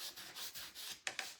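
Hand sanding over painted wood during an upcycling project, quick rhythmic rubbing strokes close by and fairly soft, with two sharper scrapes near the end and no talking.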